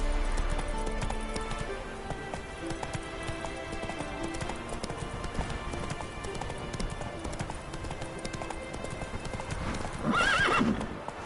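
Horse hooves clip-clop steadily at a gallop in the Witcher 3 video game, with a short whinny near the end and no talking.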